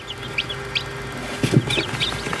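Newly hatched chicks in an egg incubator, with a few sharp peeps early on and a louder cluster of chirps after the midpoint over a constant hum.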